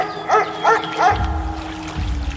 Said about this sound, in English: Playing dog sounds.